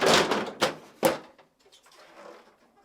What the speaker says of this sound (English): then pull the upper drawer forward and tilt it up and out